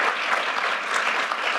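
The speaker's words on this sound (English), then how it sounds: "Can we give them a round of applause as well?" A forum audience in a lecture hall claps in a brief, steady round of applause, moderately loud and continuous with no speech over it.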